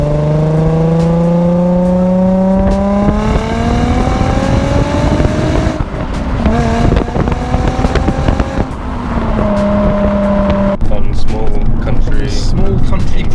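A Nissan 350Z roadster's 3.5 litre V6 revs up through several gears on small country roads, the engine note climbing and dropping between shifts, loud and close from inside the car.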